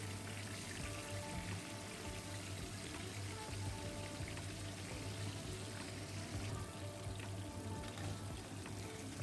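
About a kilogram of fish fries in hot oil in batches, a steady dense sizzle and crackle running continuously at moderate level with a low hum beneath, no voices.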